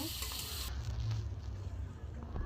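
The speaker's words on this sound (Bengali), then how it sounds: "তেল দিয়ে ভেজে নেব বন্ধুরা। আলুগুলো লাল লাল করে ভেজে নিয়েছি" Potato pieces fry in hot oil with a dense, continuous sizzle and a low rumble beneath it, close and steady throughout.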